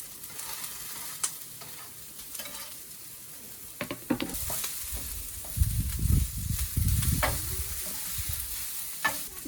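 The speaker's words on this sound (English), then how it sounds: "I'm just going to add the garlic because the onions have been on for about a minute and a half" Onions and garlic frying in butter or oil in a home kitchen pan, with a steady sizzle and occasional stirring scrapes that grow louder midway, close up and with no voices.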